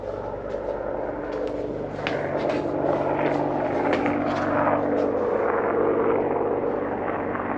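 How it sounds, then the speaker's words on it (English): An Apache helicopter drones overhead with a steady rotor beat and engine roar, continuous and fairly loud throughout. "I just like looking at Apache helicopters"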